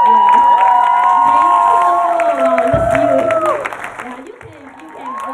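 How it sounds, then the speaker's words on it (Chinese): An audience at an international conference bursts into loud applause and cheering after a speech, with whoops and excited shouts over dense clapping that gradually fades toward the end. "现场听到心灵演说的所有人以热烈掌声来回应心灵从小开始公益行动的故事哦"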